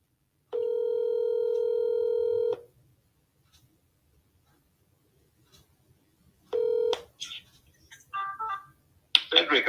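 Two long steady telephone ring tones spaced several seconds apart, clean and close, followed by short clicks and a brief burst of a voice or connection noise as the call is picked up.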